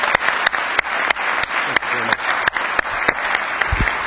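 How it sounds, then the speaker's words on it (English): Applause from a seminar audience on veterans' health care, continuous clapping with sharp clicks scattered through it and a brief voice near the end. "Please, another round of applause for Dr."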